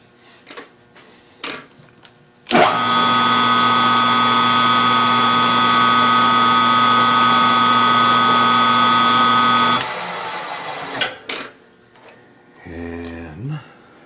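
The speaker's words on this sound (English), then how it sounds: "And countersink." A power drill cutting a countersink, heard as a loud, steady high whine that starts abruptly, holds for about seven seconds and stops, framed by scattered clicks and handling noises.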